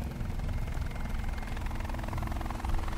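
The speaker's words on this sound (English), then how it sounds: "I'm gonna hear an helicopter" Steady low rotor thrum of a helicopter in the co-op game Chained Together, continuous and fairly loud for the whole stretch with no talk over it.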